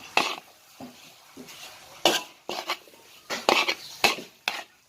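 Utensils scrape and clack against a pot while a savory filling for Thai khanom tian is stirred and mixed, producing several sharp, close metallic strikes with softer scraping between them and no talking.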